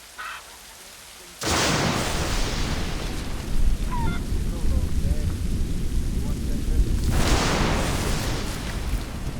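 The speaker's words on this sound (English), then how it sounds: "This storm's getting worse." Thunderstorm with rain in the video game Assassin's Creed Rogue: heavy rain and a loud rolling thunder crash break in suddenly after a quiet start. The downpour keeps roaring steadily, with brief higher tones layered over it.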